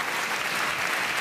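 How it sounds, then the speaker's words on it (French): Dense, steady applause from a comedy show audience fills the whole stretch, loud and continuous with no voices on top. "On l'applaudit."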